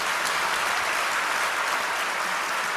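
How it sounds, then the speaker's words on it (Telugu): A church congregation claps together in praise, a dense, even burst of applause that lasts a few seconds with no voices over it. "మళ్ళీ ఒకసారి చప్పట్లు కొట్టి దేవుని స్తుతిద్దాం."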